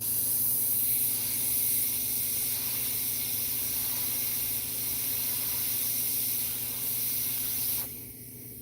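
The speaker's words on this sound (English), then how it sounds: "I could reduce the amount of overspray I'm getting into the shadows if I reduce my air pressure a little bit" An airbrush sprays paint onto a Nightcrawler figure with a continuous, close, even hiss of compressed air that drops off abruptly near the end.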